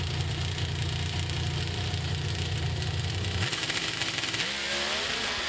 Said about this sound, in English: It sounded to me, Tony, like the two-step failed when he brought the revs up.